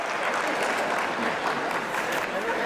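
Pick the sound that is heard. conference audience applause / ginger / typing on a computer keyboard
conference audience applause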